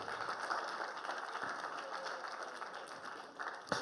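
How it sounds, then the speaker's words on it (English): Audience in a room clapping for a participant during a practice quiz game, a short, fairly dense patter of hands held steady for a few seconds. "Please give her a round of applause."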